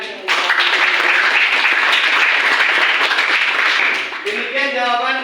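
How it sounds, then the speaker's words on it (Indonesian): A classroom breaks into applause for a student: many hands clap together in a loud, dense burst that lasts several seconds and then thins out as voices rise near the end. "berikan aplaus kepada temannya."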